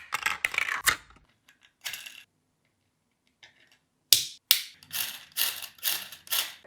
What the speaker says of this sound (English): The square gear is ready and it works.